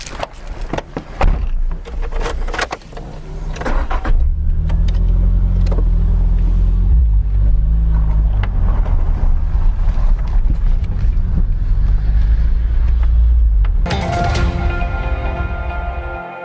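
A Nissan Sunny car accelerates hard on a motorway, its engine a loud steady drone building over several seconds with wind roar and rumble, bracketed by brief knocks and handling noises before and after.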